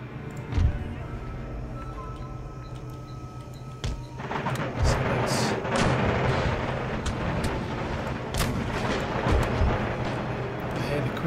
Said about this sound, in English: I heard the shrapnel shot.